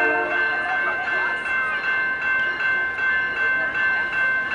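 The CP Holiday Christmas train rolls past in Montreal, Quebec, a loud, sustained rumble with bright ringing, bell-like tones and squealing wheel sounds layered over it.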